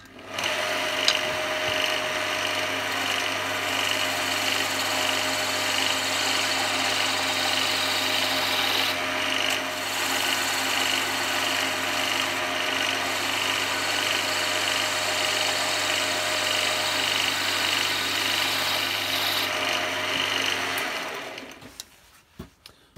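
Roughing gouge cutting spinning wood on a lathe, a loud continuous rasping hiss under a steady motor hum for about twenty seconds before winding down and stopping, no voices.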